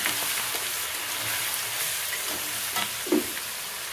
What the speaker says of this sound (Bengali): আমি তো একটু রসুনটা আগে ভেজে নিই